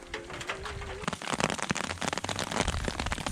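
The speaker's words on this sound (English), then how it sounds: "It's raining." Rain falls on a campfire at night, a dense patter of drops with pops and hisses building in the second half, close and fairly loud, after a short birdlike coo at the start.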